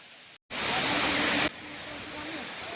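Tunki waterfall near Baripada in Mayurbhanj: a dense, hissing roar of cascading water bursts in after a brief dropout, loud and close, then settles to a slightly softer steady rush.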